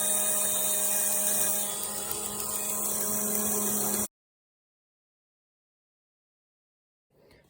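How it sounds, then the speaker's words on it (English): Power drill boring holes at a 45-degree angle into a right-angled plastic edge behind a hole for a VW T5 cup holder repair, a steady high whine running for about four seconds and then stopping, followed by silence. "it's just a case of drilling in roughly at 45 degrees into that right angle behind the hole itself"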